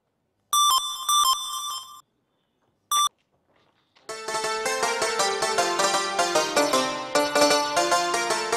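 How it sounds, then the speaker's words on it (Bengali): A mobile phone ringtone plays in short melodic bursts with brief gaps, then a fuller, louder musical ring runs continuously, close and clear with no talk. "বন্ধু আমার একটা ফোন আইছে"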